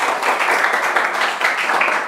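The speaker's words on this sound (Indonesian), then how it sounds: "silakan aplaus buat temannya ya" A group of people applauding together at a school class presentation, a brief burst of steady, dense clapping at close range.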